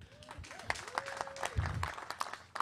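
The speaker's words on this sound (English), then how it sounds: "A big applause for that." A small audience gives faint, scattered applause, sparse individual claps rather than a dense roar, with some background tones and thuds mixed in.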